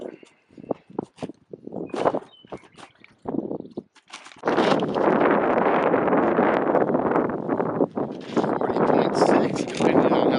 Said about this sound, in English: Depending on how strong that wind is blowing against us here.